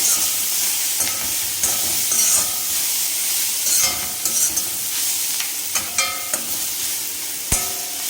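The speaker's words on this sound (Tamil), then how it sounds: "போட்டுட்டு நல்லா ஒரு தடவை இந்த மசாலா கூட கலந்து விடுங்க" Fried bonda being stirred into a tikka masala gravy in a pan, with a continuous close sizzle and hiss broken by repeated spoon scrapes and clanks against the pan.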